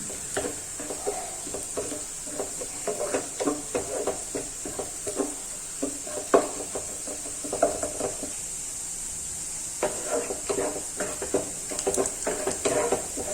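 Chopped onion sautéing in a pan over medium-low flame for akuri, a steady soft sizzle broken by repeated scraping strokes of a spoon against the pan.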